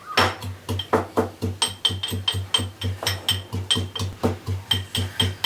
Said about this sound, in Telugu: ఇందులో ఇప్పుడు కొంచెం వెల్లుల్లిపాయలు అయితే తీసుకొని మనమైతే దంచుకుందాం